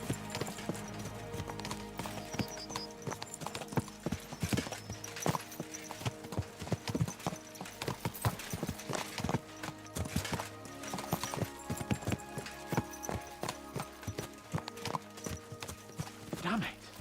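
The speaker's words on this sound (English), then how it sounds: "Let's really spur these horses on, eh?" Horse hooves clip-clop in a steady, fast rhythm as horses are ridden hard in the video game Kingdom Come Deliverance 2, close and prominent over a layered in-game soundscape.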